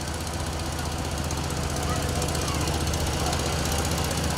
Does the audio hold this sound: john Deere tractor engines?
yes